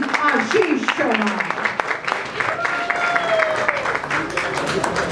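A crowd at a film trailer launch event applauds loudly and steadily for a few seconds, the clapping dense and continuous, with some voices mixed in.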